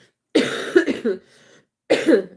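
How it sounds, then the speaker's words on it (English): A burst of several harsh coughs close up, then a pause and another pair of coughs, with no talking. "Pardon the coughing."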